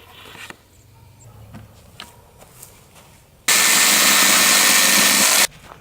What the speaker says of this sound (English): now I'm going to take my jigsaw and cut it out